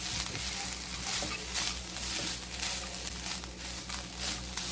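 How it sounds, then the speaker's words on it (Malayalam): Grated coconut roasts in a pan with a dense, crackling sizzle, while rhythmic stirring sweeps rise and fall through it, steady and close, with no one talking. "2 കപ്പ് തേങ്ങയാണ് ഞാനിപ്പോൾ ചേർത്തത്. തേങ്ങയിൽ വെള്ളത്തിൻ്റെ അംശമുള്ളത് കൊണ്ട് ഒരു 10-15 സെക്കൻഡ് വറുത്തതിന് ശേഷം"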